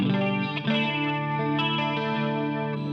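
Electric guitar on a clean tone through a Boss GT-8 multi-effects processor, sustained strummed chords ringing with chorus-like shimmer, played alone and fairly quiet.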